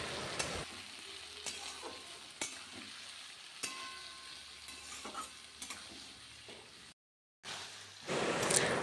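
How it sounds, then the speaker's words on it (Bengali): Ginger, cumin and chili paste fries with already fried potato and papaya, giving a low sizzle under irregular spatula scrapes and clinks against the pan. The sound drops out briefly, then returns louder and hissier. No talking. "মশলাটা খুব ভালো মতন করে কষিয়ে নিচ্ছি।"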